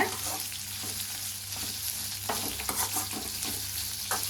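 Large onions for a Tamil potato masala frying in a pan with a steady soft sizzle, under occasional scrapes and clinks of a spoon stirring, close and fairly quiet.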